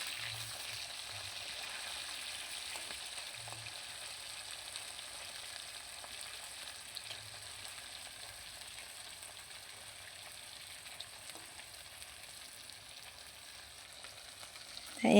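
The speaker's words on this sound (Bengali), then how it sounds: "তা এইভাবে হালকা করে ভেজে তার উপরে আবার আস্তে আস্তে করে উল্টিয়ে দিতে হবে মাছগুলোকে, যাতে এপিট ওপিট দুপিটটাই ভালোভাবে ভাজা যায়।" Pomfret fish frying in oil in a pan, a steady soft hiss and sizzle running throughout with faint clinks, fairly quiet and close, no talking.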